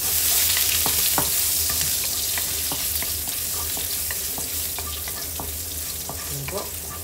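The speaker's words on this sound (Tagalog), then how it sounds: "Tapos, igisa natin." Garlic sautés in hot oil as the first step of pancit bikol. A bright, continuous sizzle carries throughout, with frequent clicks and scrapes of a utensil stirring in the pan.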